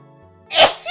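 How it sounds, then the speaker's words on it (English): A single sharp sneeze, close and loud, bursting out after a brief quiet lead-in with a faint background tone. "Oh, I need to sneeze."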